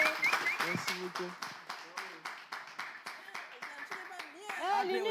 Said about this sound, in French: Monsieur Abdel, est-ce qu'on peut applaudir, s'il vous plaît?